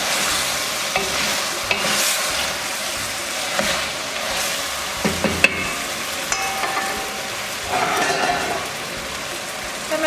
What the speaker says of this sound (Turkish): Patlıcanlarımızı da kavuruyoruz.